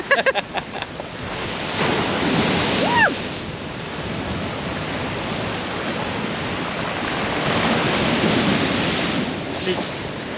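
Steady broadband roar of rough surf crashing and washing against the shore below a seawall on the Fraser Coast, Australia, with wind buffeting the microphone throughout and a brief voice near the start.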